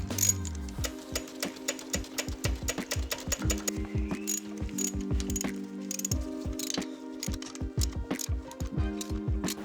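Ratchet clicking in rapid bursts while tightening three small 7/16 rocker box bolts on a Harley-Davidson, with dense metallic ticks close up and a steady hum underneath.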